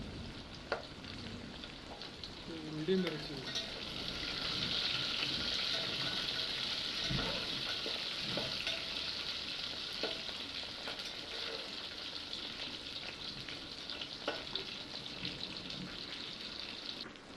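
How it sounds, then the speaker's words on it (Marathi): Cinnamon, cumin seeds and dried red chillies fry in oil in a pan for a Konkani prawn rice dish, giving a steady close sizzle with scattered crackles and light stirring scrapes throughout. "परतून घ्या"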